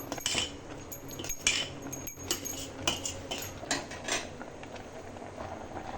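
A spoon stirs cardamom powder into milk pongal in a pot, making soft scraping and scattered metallic clinks at an uneven rhythm, close but fairly quiet.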